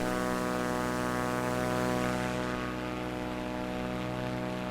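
A propeller plane comes in to land in a flight simulator on a mountain runway in France with flaps down. The engine gives a steady, loud droning hum that eases slightly partway through.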